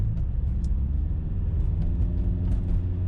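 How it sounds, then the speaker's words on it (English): Steady low rumble of a Subaru Legacy with a custom axle-back exhaust, heard from inside the cabin while driving, an even droning hum with no talk. "the exhaust turned out really good"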